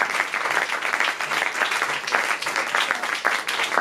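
A church congregation at a Sunday service applauds in praise of the Lord, with dense, steady clapping from many hands that fills the room without a break.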